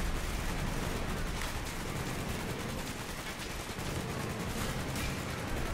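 Dense, continuous gunfire from tower guns crackles without pause amid loud battle noise in Call of Duty: Black Ops, Vorkuta mission, a sustained rattle of rapid shots filling the scene.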